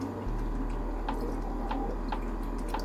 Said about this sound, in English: I'm adding about 1/4 cup of water.